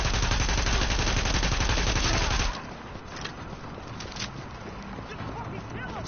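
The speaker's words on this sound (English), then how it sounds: "So right now I'm using what's called the can, the power can, which is a submachine gun." Rapid submachine gun fire, the Power Can in The Division video game, bursts loudly and continuously for about two and a half seconds, then cuts off, leaving quieter game ambience with a few faint distant pops.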